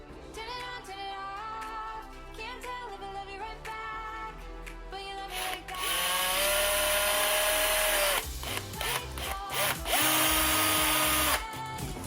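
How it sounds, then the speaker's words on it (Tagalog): A Black & Decker Multi Evo multi-purpose cordless drill whirring steadily under power, loud and close, with pitch shifts as it revs and changes load over about twelve seconds, no talking. "ito na yung pinaka Black & Decker na drill"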